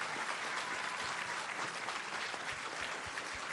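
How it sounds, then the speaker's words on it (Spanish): Steady, dense applause from an audience at an outdoor public health event in Acapulco, Guerrero, a continuous wash of clapping heard at a moderate distance without other sounds. "Un fuerte aplauso a nuestros servidores de la nación"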